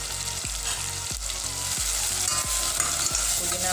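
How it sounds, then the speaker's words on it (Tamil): Mint, coriander leaves, onion and tomato sautéing in a pan for chicken dum biryani, a steady broadband sizzle with a regular series of spatula scrapes and stirs roughly every half second, close and continuous, no talking. "புதினா, கொத்தமல்லி, வெங்காய தக்காளி நல்லா வதங்கிடுச்சு."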